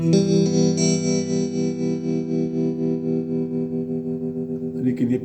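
An electric guitar is played through a small Roland Micro Cube amplifier, giving a sustained distorted chord with chorus and echo effects, loud and close, that rings out and fades before a short burst of fast picking.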